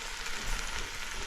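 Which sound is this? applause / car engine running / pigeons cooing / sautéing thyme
sautéing thyme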